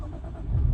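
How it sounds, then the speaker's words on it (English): A Jaguar F-Type's supercharged V6 fires up with a push-button start, a low engine rumble swelling near the end of a brief, quiet stretch. "we'll watch what happens as we fire up the supercharged V6"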